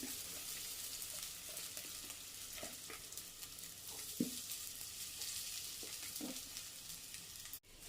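Rava laddu mixture fries in ghee over a low-medium flame, a soft steady sizzle with occasional stirring clicks and scrapes, close and fairly quiet throughout.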